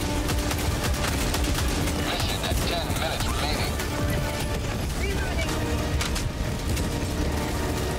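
A Gatling gun in the co-op shooter Helldivers 2 fires a continuous, dense rattling stream of rapid shots, loud and close, with explosions and a player talking mixed in.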